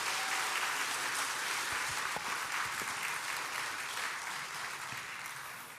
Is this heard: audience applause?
yes